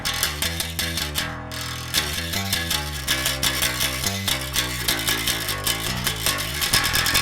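Dry direct-input Fender electric guitar riff, loud and rhythmic, with chugging palm-muted low notes and percussive string clicks repeating steadily throughout, alone with no voices.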